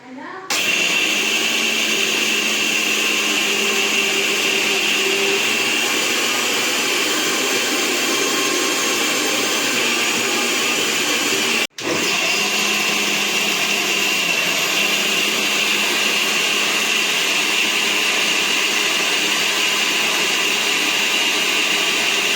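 Mixer grinder whirring loudly while grinding dosa batter, a continuous close high-pitched motor drone that cuts out for a moment midway and then resumes.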